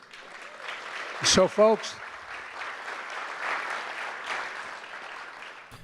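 A crowd claps in sustained applause at a live event, a dense, steady patter of many hands, while someone speaks briefly over it near the start.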